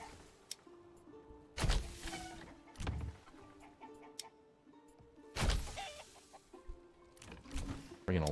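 Chickens at a chicken coop in Manor Lords give short, scattered clucks amid soft ambience, broken by several loud thumping bursts, with faint background sounds between.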